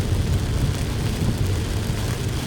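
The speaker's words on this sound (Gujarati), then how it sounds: "વરસાદ સરસ ફાસ્ટમાં ચાલુ થઈ ગયો છે." Heavy afternoon rain on a car driving the road from Kosindra to Bodeli near the Statue of Unity, a loud dense roar of drumming water and road noise that stays constant throughout.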